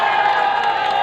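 A large crowd at a political rally in Jaipur gives a loud, dense roar of cheering and clapping, sustained and close throughout the brief moment.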